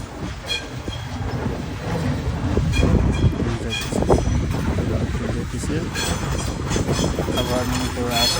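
A high-speed bullet train rumbles steadily past at a railway station in Rome, with a clattering, rolling roar that swells midway and runs under a person talking.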